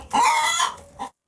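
A broody hen sitting on her eggs gives a short, close cluck: one drawn-out throaty call followed by a brief second note, then silence.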